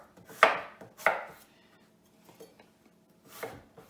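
A knife chops food into slices on a cutting board, with two crisp, close cuts in quick succession, a few soft taps after them and one more cut near the end.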